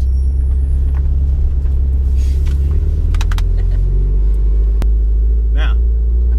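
A 600 HP Subaru STI racecar's engine rumbles low and loud at close range, a heavy steady drone with a few brief clicks and a short squeak over it.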